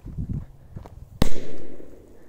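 A small triangle firecracker bursts under a bowl, one sharp loud bang followed by a short ringing clatter and decay, with quiet handling noises before it.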